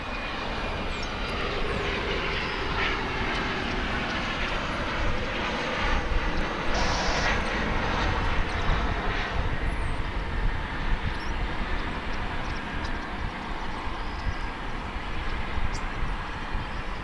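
A plane lands at DFW Airport on a windy morning, a broad continuous engine roar and rushing noise heard from a distance, holding steady throughout with no voices.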